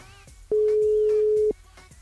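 A telephone ringback tone on an outgoing call to a mobile, a single steady one-second electronic beep heard clearly above quiet background music on a live radio broadcast.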